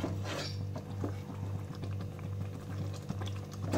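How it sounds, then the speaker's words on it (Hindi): Eggplant curry simmers gently in a pan after a little water is added, giving a quiet, continuous bubbling with a few faint utensil clinks. "फिर थोड़ा सा पानी डालकर इसे पका लेना है।"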